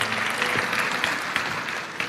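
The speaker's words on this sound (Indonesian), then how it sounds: "kasih tepuk tangan untuk Tuhan Yesus." Congregation in a church clapping for Jesus, a steady dense patter of many hands that holds evenly throughout, with a faint voice mixed in.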